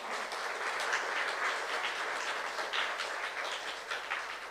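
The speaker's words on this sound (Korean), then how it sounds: "믿는 사람만 하나님께 박수 영광 주시기 바랍니다" A church congregation gives a steady round of applause during a youth service sermon, an even, moderately distant wash of many hands clapping without a break.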